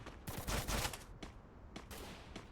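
Enemy gunfire in Free Fire, several faint bursts of shots spread across a few seconds, the first cluster denser and the later ones sparser and quieter.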